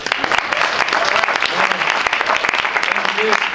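An audience at a hip-hop poetry slam claps loudly and steadily close by, with scattered voices and cheers mixed into the applause.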